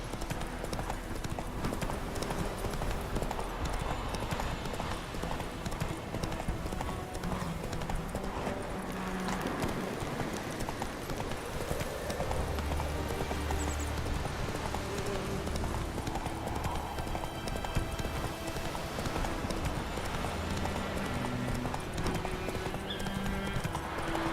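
Hooves beat in a steady clip-clop as the horse Roach gallops in The Witcher 3, with a brief neigh amid dense game ambience and music throughout.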